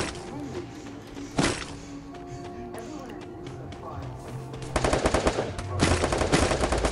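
Rapid automatic gunfire in the battle royale video game Free Fire, with bursts of shots over steady game noise, growing louder and denser toward the end.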